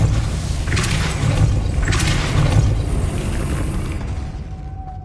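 Depulso spell casts in Hogwarts Legacy give two loud whooshing bursts about a second apart, each with a rumbling boom, fading out as a faint tone lingers.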